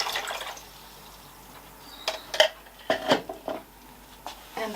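Alum solution is poured into lukewarm water, giving splashy pouring and a few sharp clinks of a container, with quiet gaps between the bursts.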